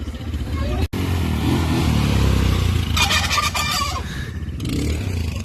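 Quad bike (ATV) pulling away on a muddy dirt trail, with a steady buzzing engine that rises in revs, close by and loud, with a brief voice partway through.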